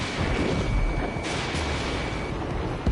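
A UAV blowing up in the Ace Combat flight game, heard as a steady roaring rumble of jet and explosion noise with a sharp burst near the end.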